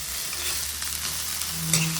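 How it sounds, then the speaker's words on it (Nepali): Cooked rice stir-fried in a pan for fried rice sizzles steadily and evenly, close by, with a brief metallic clink near the end. "अब यो भात भुट्न लागेको है। अब म भुट्छु।"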